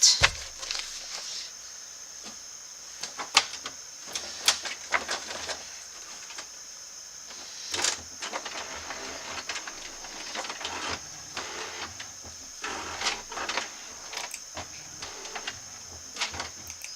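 Printer feeding and printing a sheet, a steady whine with repeated mechanical clicks, clunks and rolling paper-feed sounds, close and moderately loud throughout.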